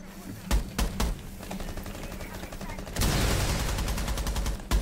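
Gunfire in Rainbow Six Siege: a few separate loud shots, then a sustained rapid automatic burst crackling close and hard, ending with another shot.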